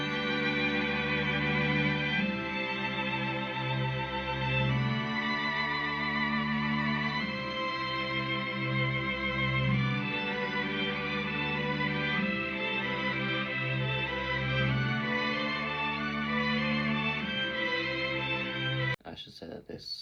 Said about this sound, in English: this is where the string section comes in,